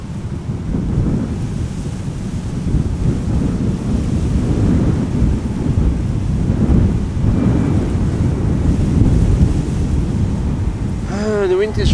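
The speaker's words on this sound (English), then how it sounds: "The wind is relentless today." Strong, relentless wind roars steadily across an open airfield setting in mainland Europe, a loud, continuous low rumble of gusts buffeting the microphone throughout, with a brief higher-pitched whine near the very end.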